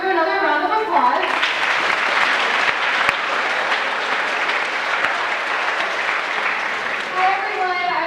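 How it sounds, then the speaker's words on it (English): An audience applauds at an anti-bullying presentation, a dense sustained wash of clapping that starts after a brief moment of voices and holds steady and loud for the rest of the clip. "Let's give her another round of applause."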